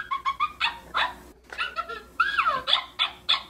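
Small dog barking and yipping in a quick series of close, sharp barks, with a whimpering, whining stretch in the middle, heard alone in a room without talk.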